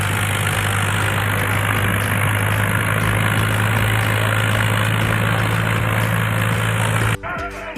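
A tractor engine runs loud and steady with a deep droning hum while pulling a stuck car out of the mud, then cuts off abruptly near the end.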